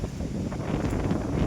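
Fierce wind roars and buffets the microphone steadily at a large cave near the Kotebetta Shiva temple, a brief loud blast with no voices.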